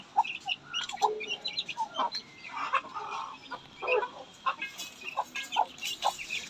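Bhimavaram breed chicks and chickens cluck softly and intermittently nearby, short throaty calls scattered over a faint background hiss.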